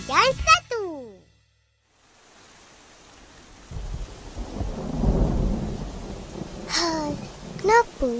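Steady rain hiss with low rumbling, apparently thunder, swelling in the middle, while children talk briefly at the start and again near the end.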